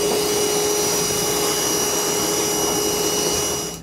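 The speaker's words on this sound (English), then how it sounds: "I'm gonna go ahead and just vacuum this up" Shop vacuum sucking up metal debris in the bed of a 2022 Ram pickup during an underbed gooseneck hitch install, a steady loud whine holding for several seconds before tapering slightly at the end.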